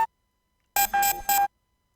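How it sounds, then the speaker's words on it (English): A dry robotic synth effect from a jungle music sample pack plays alone as three quick bright bleeping bursts in under a second, harsh and buzzy with a steady pitched tone. "the new element is this Robot FX number 4"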